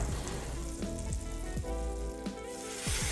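Extra virgin olive oil and fat melt in a hot pan before steak goes in, making a steady close sizzle with bubbly crackle and a few sharper spatters, without talk.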